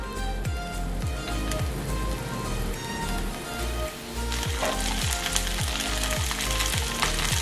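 Fish frying in a pan over medium heat, a loud, dense, continuous sizzle with rapid spattering crackles, close up and steady, growing brighter in the second half, with no one talking.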